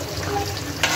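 Malabar spinach leaf fritters frying in hot oil, a steady dense crackle and sizzle close by with a brief louder splash of bubbling near the end.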